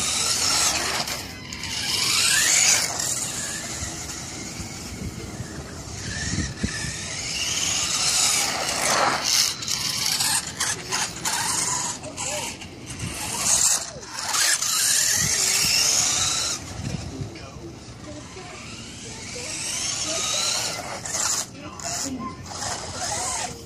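A Helion Animus RC car drives through tough grass, its small electric motor whining in bursts amid rustling and scraping, with a person talking over it.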